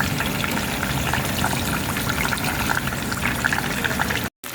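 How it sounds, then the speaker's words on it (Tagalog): Fish frying in oil that is not yet very hot, cooked before being made into an Arabian saluna, gives a dense, even hiss with scattered crackles close by before a brief dropout near the end. "dagdagan ko tong oil para sa ating isda, pritong isda. Prituhin muna natin bago i-saluna."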